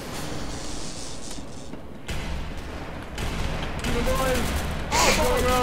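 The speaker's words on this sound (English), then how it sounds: "I'm hearing gunshots." Bursts of rapid gunfire and heavy booms sound in a chaotic SCP: Secret Laboratory game soundscape, building in intensity, with voices talking over the action.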